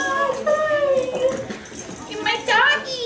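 A large dog whimpers and whines in high, wavering cries, with a rising yelp near the end, while people talk over it nearby.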